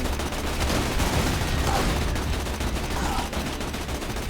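Rapid, continuous gunfire roars without pause in the video game Borderlands 2, a dense wall of shots and cannon blasts like a heated battle.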